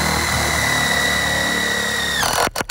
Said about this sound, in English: Just take an impact with a socket, run them in.